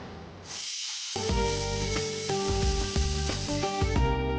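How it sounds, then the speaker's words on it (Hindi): A kitchen pressure cooker whistles and blasts steam, a loud continuous hiss rising suddenly and holding, with sustained musical tones shifting beneath it. "ये कुकर है ना, एकदम गलत टाइम पे सीटी बजा के मोमेंट खराब कर।"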